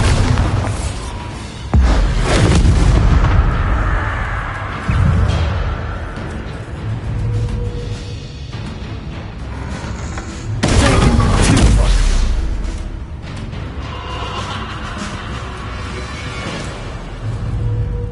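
Bombarda blasting spell in Hogwarts Legacy, booming loud explosions bursting in two big waves among other spell impacts, with low rumbling tails.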